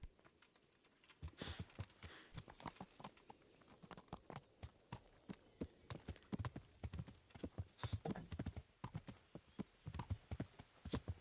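Steady clip-clop of horse hooves in the video game Kingdom Come: Deliverance, a continuous trotting rhythm of sharp, close knocks with no talking.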